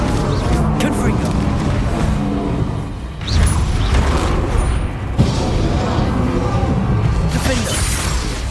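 In Hogwarts Legacy, Confringo blasting spells set off a couple of sudden booming impacts amid loud, continuous combat noise and mechanical clatter, with voices talking over the fight.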